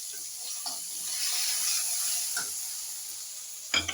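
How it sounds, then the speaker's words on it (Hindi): Fenugreek and asafoetida tadka sizzles in hot oil as kadhi is tempered, a steady close hiss with faint stirring, ending in a sharp clatter. "कढ़ी छौंक रही हूँ।"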